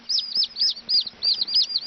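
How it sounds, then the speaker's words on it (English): Tiny bantam chicks, including a silkie, peep in rapid, high-pitched chirps, several overlapping calls close by with a faint steady hum underneath. "These are tiny, tiny little birds."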